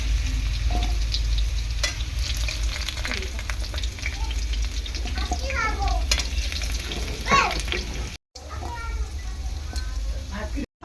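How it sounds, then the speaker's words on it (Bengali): Potato pieces fry in oil in a pan, with a constant crackling sizzle and occasional stirring clatter. A voice talks intermittently over the cooking noise. "আলুগুলো আমি ভেজে নেব।"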